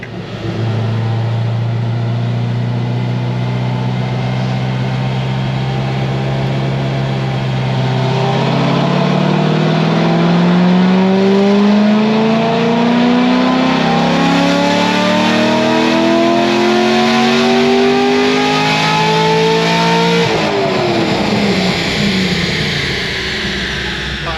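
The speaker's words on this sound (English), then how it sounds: "I revved it a little higher there." A Corvette Z06 LS7 V8 with stage 3 heads and cam revs under load on a dyno, loud and continuous, its pitch climbing steadily through a long pull before dropping back near the end.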